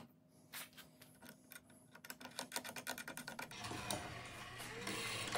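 Whirring, ratcheting test run of a linear actuator driving a rack on a guitar neck profile copy jig, a rapid rhythmic clicking that builds into a steadier mechanical drone, close and quiet.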